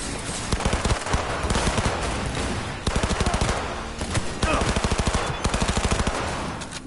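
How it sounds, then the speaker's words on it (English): Gunfire in the video game Cyberpunk 2077 crackles in rapid automatic bursts, several loud volleys of machine-gun fire separated by short pauses. "I guess we're shooting our way out."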